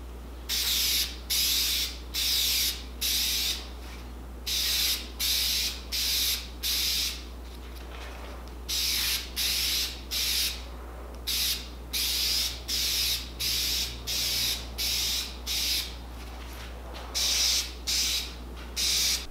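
A spray gun lays clear coat onto plastic Silverado tow mirror covers in short repeated hissing bursts, each about half a second to a second long with brief gaps, over a steady low hum.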